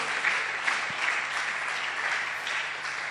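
A church congregation claps together at an evening service, a dense, steady wash of applause lasting throughout with no voices over it.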